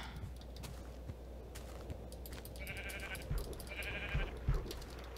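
Minecraft Tekkit sheep bleating twice in short wavering calls, over soft game footsteps and a few dull thuds.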